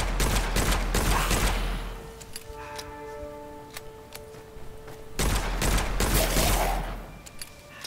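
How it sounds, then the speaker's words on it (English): Rapid gunfire bursts from the video game Witchfire, a loud dense volley for about two seconds, a quieter stretch of ticking and tonal game sounds, then a second sustained volley before fading. "I'm dodging bullets like a madman."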